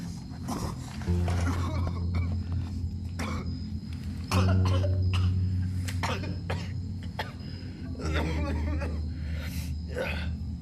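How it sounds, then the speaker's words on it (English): A man drops to his knees in a violent coughing fit, a run of harsh, ragged coughs and throat-clearing spread across several seconds over a low droning background. "he suddenly drops down to his knees in a violent coughing fit"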